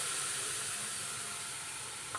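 Ground masala paste (vatan) sizzles steadily in a hot pan while cooking Malvani-style white peas usal, giving a continuous, even hiss throughout.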